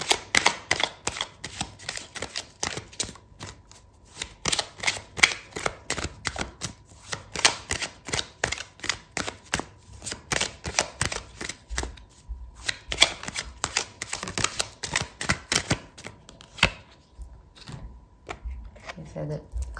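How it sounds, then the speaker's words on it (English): Tarot cards being shuffled and one drawn from the deck, a rapid, dense run of crisp papery riffles and flicks, close and fairly loud, continuing steadily with brief pauses throughout. "I'm going to pull out another card for you"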